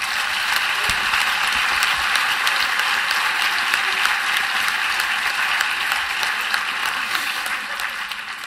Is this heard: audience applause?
yes